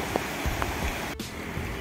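Monsoon floodwater rushes during heavy rain in Konkan, making a steady broadband wash of flowing water and rain with a few faint knocks over the top.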